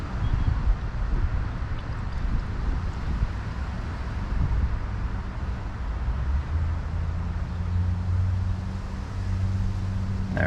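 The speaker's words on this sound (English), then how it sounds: "And it's really windy out." Strong wind blows outdoors during a brake line bleeding job, a steady broadband rush and low rumble buffeting the microphone throughout, with a faint low hum joining near the end.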